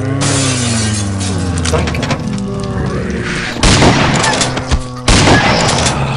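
Loud blasts of shotgun fire in the video game They Hunger, two sharp booming shots ringing out over dense, noisy in-game sound with breaking-glass-like crashes.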